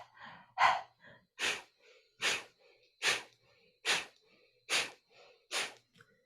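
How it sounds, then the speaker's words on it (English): Rhythmic breathing during yoga practice, with eight evenly spaced, forceful breaths through the nose, each a short sharp puff, close and fairly clear with quiet pauses between. "transitioning to breathe through the nose"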